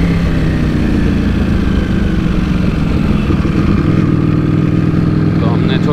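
A Kawasaki Z900 or Ducati Panigale V4S sport motorcycle, cold-started in sports mode before a short city ride, gives a loud, close, steady engine rumble, with a person talking over it.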